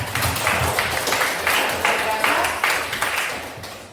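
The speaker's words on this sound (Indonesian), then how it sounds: "Tepuk tangan untuk teman Clarissa." Schoolchildren in a classroom clap for a classmate in loud, rhythmic bursts of patterned clapping, with voices mixed in.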